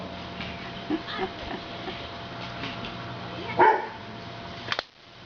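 A family pet dog gives a few scattered barks at a home gathering with neighbors, short and moderately distant over a low steady hum, followed by a louder burst of activity near the end.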